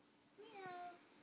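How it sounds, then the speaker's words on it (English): A single faint meow rises and falls once, followed by a couple of soft high chirps. "it's a cat. Cat. Meow."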